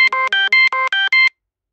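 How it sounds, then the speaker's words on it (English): A cell phone alarm going off: seven short electronic tone pulses in a quick, regular pattern, loud and close, stopping abruptly, with no talk over it. "it's my husband's alarm"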